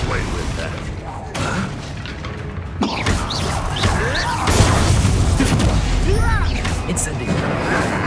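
Confringo explosive spell blasts in Hogwarts Legacy go off amid busy combat, with booming bursts and crashing impacts over a continuous loud mix of game effects and music while a voice speaks at times.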